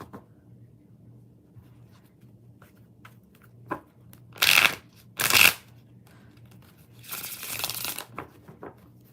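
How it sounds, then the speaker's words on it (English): Tarot deck being shuffled by hand, a few quick riffling bursts close up, spaced by quiet gaps over low room hum. "Let me shuffle it 2 more times."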